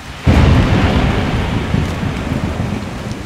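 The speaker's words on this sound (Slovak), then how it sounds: "Búrka a je noc a sme v lese" Heavy rain and a thunderstorm at night in a forest in the horror video game Haunted, starting abruptly with a loud, steady roar of downpour and low rumbling that continues throughout without speech.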